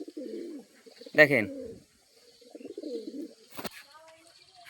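Pigeons kept at a home loft coo softly in short bursts close to the microphone, with a sharp wing flap or clatter among them, while someone talks in the foreground.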